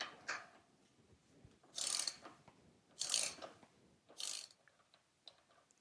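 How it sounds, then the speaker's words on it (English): A size 24 socket on a ratchet loosens the front wheel axle nut on a Royal Enfield Interceptor 650 during fork disassembly. Three distinct close ratcheting bursts, about a second apart, come after a faint opening click, in a quiet setting. "use a size 24 socket to remove the nut on the left side"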